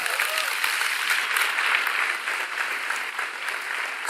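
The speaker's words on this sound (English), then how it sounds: "Let's give them a big round of applause." Large keynote audience applauding at Apple's WWDC 2017, a dense, even wash of many hands clapping that holds steady and loud for several seconds.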